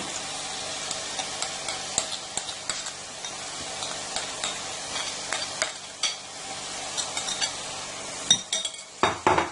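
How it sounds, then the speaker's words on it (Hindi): Mashed potatoes are stirred into masala sizzling in a pan for Lahori chikar cholay, a spoon scraping and clinking against the metal in an uneven rhythm over a steady, close fry, with the knocks sharpening toward the end. "इनको अच्छी तरह मिक्स कर दें और 2 से 3 मिनट तक आप इन आलूओं को इस मसाले में भून लें।"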